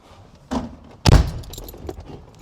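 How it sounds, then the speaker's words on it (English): An MGB car door is unlocked with a click, then opens with a heavy clunk, and the driver shuffles in. The sounds come close and fairly quiet, one after another. "Door unlocked, jump in"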